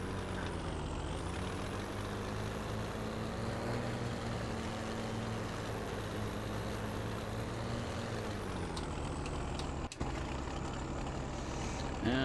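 A loud, raspy straight-piped tractor engine in Farming Simulator 17 drones continuously with a steady low growl, its pitch dipping slightly near the end; no talking.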